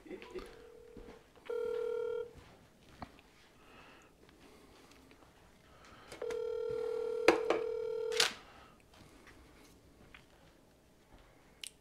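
Phone call on speakerphone: electronic dialing tones and two stretches of loud buzzing ringback, the second longer and mixed with brief clicks, with quiet room noise between.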